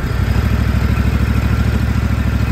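A small petrol engine on a radio-controlled lawn mower idles steadily at close range, a continuous low throbbing chug with rapid even firing pulses and no talk over it.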